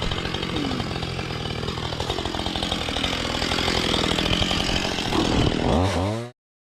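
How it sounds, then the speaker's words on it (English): A chainsaw drones loudly and steadily for several seconds in the Dusky Sound wilderness, its engine revving briefly near the end before cutting off abruptly. "You can hear over top of old mate on his chainsaw"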